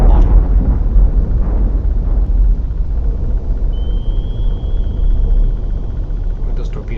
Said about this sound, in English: I'm going to go behind this sinking wreck and use its noise to shield me from the other ship